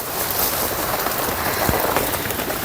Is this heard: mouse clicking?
no